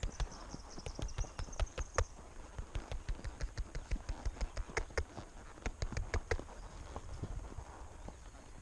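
A horse wearing a bitless bridle walks around a round yard with a rider on its back, its hooves making steady, close clip-clops heard from the rider's viewpoint, with faint background hiss.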